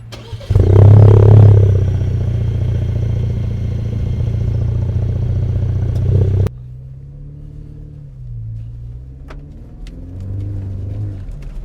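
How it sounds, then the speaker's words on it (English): A 2021 Ford Ranger truck engine with a Roush exhaust starts with a deep, throaty roar that idles heavily, then cuts off abruptly and gives way to a softer low rumble. "And then the Roush exhaust sounds so killer. Let's have a listen."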